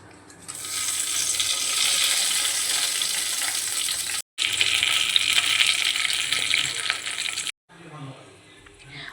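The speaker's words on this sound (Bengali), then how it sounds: "এরপর কড়াইয়ে ঘি গরম করে তার মধ্যে দিয়ে দেব গোটা গরম মশলা আর তেজপাতা" Whole garam masala and bay leaves fry in hot ghee in a kadai, giving a loud, steady sizzle that cuts out briefly and then fades to quieter crackling.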